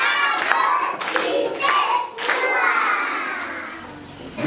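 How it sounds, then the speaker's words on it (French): Schoolchildren at a thanksgiving Mass clap together in several quick bursts, the close, bright claps mixed with children's voices before fading toward the end. "Bravo, applaudissez."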